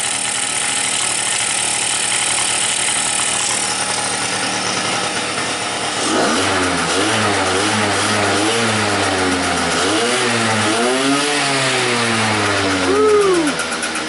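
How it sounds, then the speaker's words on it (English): A 50cc two-stroke scooter engine with a lean-running condition buzzes steadily, then revs up and down in repeated swells, loud and close, with the pitch rising and falling. "Two-stroke, baby, two-stroke."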